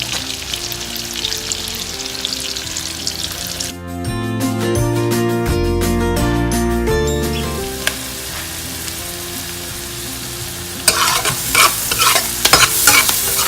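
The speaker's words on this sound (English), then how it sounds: "I'm going to saute the onions and garlic for about a minute or so" Onions and garlic are sautéed and stirred in a pan while background music plays, and a louder crackling sizzle with utensil clinks comes through near the end.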